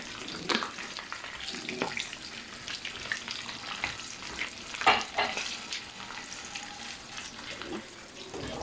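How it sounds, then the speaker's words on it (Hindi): Hot oil sizzles and crackles steadily at close range as chilies and cumin fry, with sharp spattering pops scattered throughout and a brief stir around the middle. "मिर्ची डाल के थोड़ा एहतियात करें क्योंकि ये एकदम इसकी छींटें शुरू हो जाती हैं"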